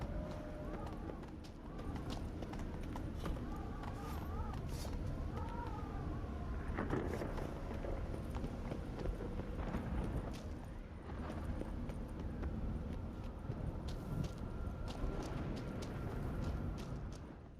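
Donkeys' hooves clop in The Witcher 3 video game, a softer, irregular trotting clatter spread through a busy game soundscape with voices and occasional animal calls.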